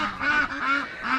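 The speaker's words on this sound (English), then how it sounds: "Hello ducks." Farm ducks quack in a short run of close, loud, nasal calls, three or four honking bursts with no talk over them.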